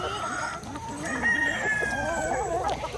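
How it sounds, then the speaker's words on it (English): Backyard chickens of mixed varieties crowing and clucking nearby, with overlapping calls and a long rooster-style crow rising in the middle, busy and fairly loud, with faint speech mixed in. "You can see why I love chickens, because of all the varieties and colors and"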